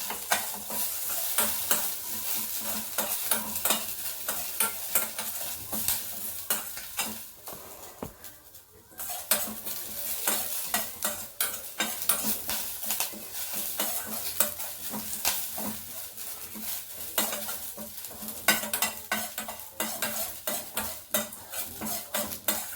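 Curry leaves crackle and sizzle in hot oil in a garlic curry, with a steady frying hiss, frequent clinks and scrapes of a ladle stirring against the pan, and one brief lull partway through, no talk.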